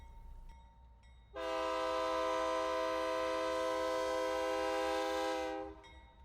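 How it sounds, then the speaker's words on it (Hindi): A train horn blares in one long, loud, steady blast for about four seconds as a train departs, with quieter ambient rumble before and after. "मेरी ट्रेन निकल पड़ी।"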